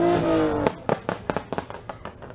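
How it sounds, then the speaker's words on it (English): Exhaust of an imported Australian Holden Commodore backfires at a street car show, a revving engine followed by a rapid run of about ten sharp, loud pops and crackles close by. "Whoa, that guy's spitting flames."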